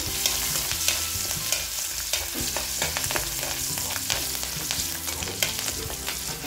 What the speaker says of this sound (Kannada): ಚಟಪಟ ಚಟಪಟ ಅಂದ ತಕ್ಷಣ ಹಸಿಮೆಣಸಿನಕಾಯಿ ಮತ್ತು ಕರಿಬೇವು ಹಾಕ್ತಾ ಇದ್ದೀನಿ